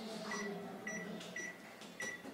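A microwave oven runs with a steady hum and whir while baking an Oreo biscuit cake, a continuous moderate drone with faint repeating tonal whines layered over it.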